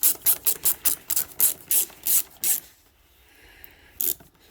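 A pre-oiled clamp on a Polaris Ranger 570 EFI gearbox is tightened with a quick run of about a dozen rhythmic ratcheting clicks, close and crisp, then stops into quiet with one last click.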